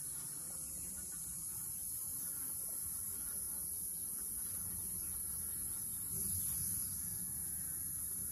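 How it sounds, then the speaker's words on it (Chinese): Black-tailed hornets attack honeybees at a beehive entrance, giving a steady, dense insect buzz and whir that holds at an even level throughout, with no talk. "它现在正在蜂箱前面的出入口一直攻击要出来跟飞回去的一个虎头蜂"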